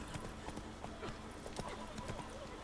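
Roach the horse trots in The Witcher 3, hooves clip-clopping in a quick, even rhythm close by, with a faint voice underneath.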